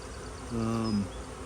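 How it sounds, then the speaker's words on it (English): Bees fanning at a swarm trap outdoors make a brief, steady buzzing hum that swells in the middle and fades, close and faint. "I'm seeing bees in this area right here fanning"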